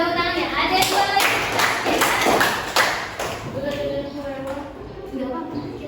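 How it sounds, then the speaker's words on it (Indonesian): A classroom of students clapping together, a dense burst of applause with hand thumps and taps that tapers off over a few seconds while a voice talks over it. "Oke, berikan tepuk tangannya."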